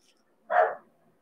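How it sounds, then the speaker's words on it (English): A small dog lets out one short, sharp bark at a moderate distance in an otherwise quiet room. "That's my dog."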